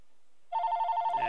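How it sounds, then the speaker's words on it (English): A phone rings from an incoming call to a Google Voice number through a VOIP telephone adapter, silence then a sudden close electronic warbling ring that repeats rapidly in short pulses until the end. "And you can hear the phone ringing."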